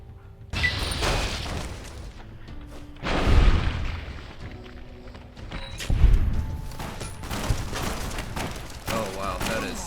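Grenade explosions in Fallout: New Vegas, two heavy, booming blasts a few seconds apart, each with a deep rumbling tail, amid clattering combat noise, with a voice talking over the action.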